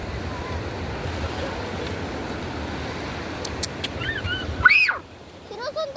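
Sea waves wash steadily onto a beach, a broad continuous surf hiss with wind, before a child's brief call and a sudden drop to quieter surroundings near the end.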